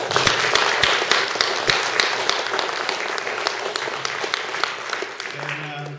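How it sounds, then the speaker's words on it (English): An audience at a town Candidates Night meeting in Lebanon, Maine gives a loud, sustained round of applause that fades slightly toward the end. "I think they deserve a big round of applause"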